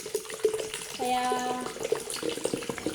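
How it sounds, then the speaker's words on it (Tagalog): Water is poured from a tap into a pitcher for Nestea juice, giving a short splashing fill under someone speaking, close and moderately loud. "Una is lalagay natin yung tubig sa pitzel."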